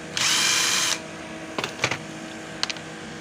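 A cordless power drill whirs for about a second while removing screws, followed by a few light clicks and taps of handling parts, close and alone without talk.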